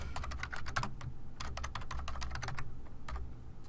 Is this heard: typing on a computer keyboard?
yes